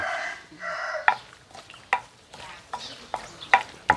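Snakehead fish and chili pounded in a mortar: several sharp, separate thuds of the pestle at an uneven pace, up close, with a soft background hiss and no talk.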